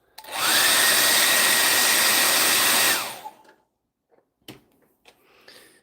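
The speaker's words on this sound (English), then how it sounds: "I'm going to get the hairdryer out initially though." A hair dryer blows on a freshly painted miniature in one loud, steady burst of about two and a half seconds, followed by faint clicks and handling noises.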